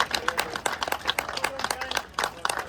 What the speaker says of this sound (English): Big round of applause for James and Gus.